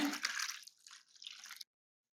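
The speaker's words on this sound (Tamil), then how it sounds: "இதை கழுவுறதுக்கு தண்ணி ஊற்றிக்கிறேன்." Water is poured into a bowl of grated raw potatoes, a soft splashing trickle that thins midway, surges briefly again and then stops abruptly, faint and close with no voices.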